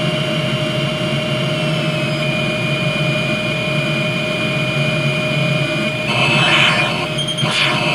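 A plane engine drones steadily from an NES flight game, a flat synthetic hum with sustained tones that hold evenly throughout, joined near the end by a brief burst of louder noisy rushing.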